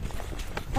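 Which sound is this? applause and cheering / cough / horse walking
horse walking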